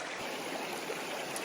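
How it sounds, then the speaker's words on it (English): Creek water flows steadily in a close, even rushing babble with a bright splashy texture and no voices. "What a beautiful creek."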